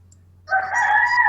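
A rooster crowing loudly and close by, a single drawn-out call that starts abruptly after a short quiet moment with a faint low hum underneath.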